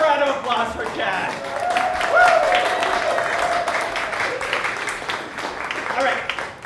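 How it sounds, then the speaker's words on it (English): An audience at an improv comedy show applauds steadily for the whole stretch, with a busy crowd texture and a faint tonal murmur that could be voices or music running underneath. "Another round of applause for Chad."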